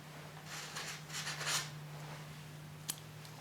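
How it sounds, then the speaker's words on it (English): Scissors cut crochet yarn after a chain stitch on motif slippers: a few soft, quick snips close by, then a single sharp click, over a steady low hum with no talking. "Now I'll chain 1, then I'll cut this yarn."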